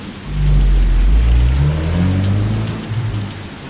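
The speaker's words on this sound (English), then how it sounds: "And it's raining." Steady rain pours outside a locked church, a loud dense hiss of drops on hard surfaces with a low rumble beneath, no voices.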